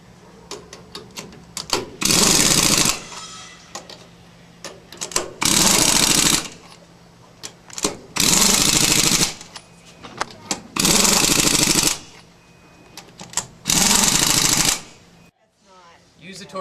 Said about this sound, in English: You're going to want to turn down the impact wrench way down so you don't strip any of the bolts